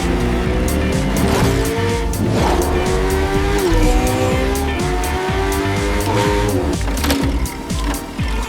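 Cartoon race cars speed past with roaring engines and sharp squealing tires through a loud, continuous stretch, engine pitch rising and sweeping as they corner, with no talking.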